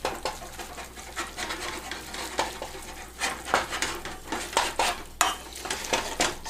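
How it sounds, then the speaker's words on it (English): Mac and cheese being stirred in a pot with cheese powder added, giving repeated scraping and clinking strokes of a spoon against the pot in an uneven rhythm, close and fairly loud, with no talk. "Stir, stir, stir."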